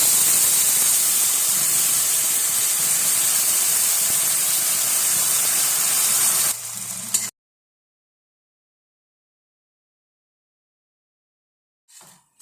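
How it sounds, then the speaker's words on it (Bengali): Spice paste sizzling and frying in a pan for a Bengali potato-fritter curry, a loud steady hiss for about seven seconds that then cuts to silence. "মশলাটা ভাজা হয়ে এসছে"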